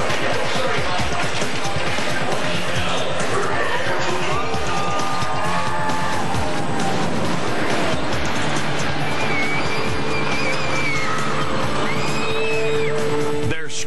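Rumbling of a wooden roller coaster train, Lightning Racer, with clattering wheels, mixed with distant rider yells and screams throughout, loud and continuous.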